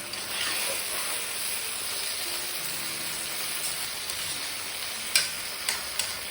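Vegetables and tofu sauté in a pan with a steady, close sizzle, broken near the end by a few sharp utensil clicks.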